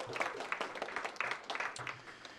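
Sparse, fairly quiet clapping from a small labor organizing session audience, individual claps audible in an uneven patter lasting a couple of seconds.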